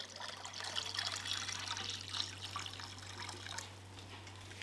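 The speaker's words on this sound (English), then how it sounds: "Now just continue adding cold water, stirring, adding cold water, stirring, until the bucket gets basically full." Cold water poured into a bucket while making cornflakes whiskey, a steady splashing trickle over a low constant hum, fading toward the end, no voices.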